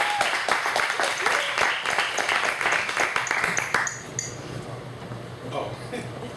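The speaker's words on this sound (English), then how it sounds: "I give him a big round of applause for putting this live tonight" A live audience at a comedy show claps in dense applause that runs for a few seconds, then fades into scattered claps and crowd murmur.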